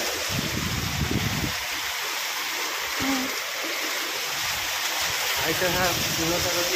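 Heavy rain pours down in a steady, loud roar with gusting wind, continuous throughout, while a voice talks underneath.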